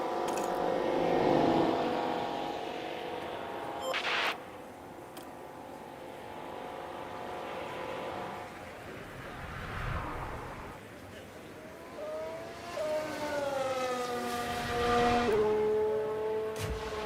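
An F1 car in the F1 Manager 2013 game pulls out of the pit lane at Hockenheim, its engine note rising and shifting in pitch through several gears, moderately loud beneath a voice speaking over it.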